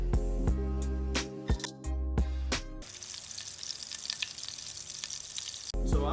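A tablespoon of butter dropped into a lightly oiled pan bursts into a dense, crackling sizzle that runs steadily for about three seconds. Before it, a low hum and a few sharp knocks are heard up close.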